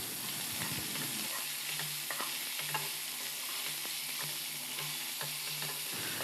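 Ginger garlic paste sizzles in a pan with pepper chicken, a steady faint hiss under intermittent soft stirring scrapes and light utensil taps, without any talking.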